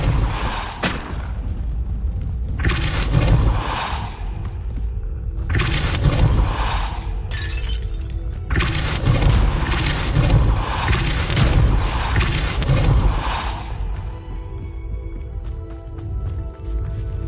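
Depulso spells cast in Hogwarts Legacy on PS5 boom in repeated heavy, explosive blasts, several loud surges of rumbling force with short gaps between them, tailing off at the end.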